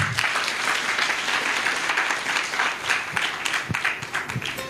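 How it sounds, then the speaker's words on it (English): An audience at a coffee farmers cooperative event gives sustained, dense applause as the group is called to the stage, with the clapping loosening into scattered claps near the end. "Let's give them a round of applause."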